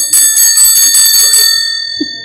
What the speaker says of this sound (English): this is the bell for service.